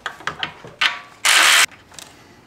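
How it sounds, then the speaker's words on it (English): A ratchet wrench turns a 10 mm nut on a bracket during a charge air cooler installation on a Duramax diesel. Several quick, close pawl clicks lead into one short, harsh burst of rapid ratcheting, with no talking. "So 10 millimeter on a ratchet here."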